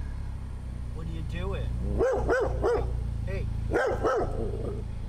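Street dogs bark in a quick series of loud, close barks in two clusters, with a voice talking briefly among them over low background noise.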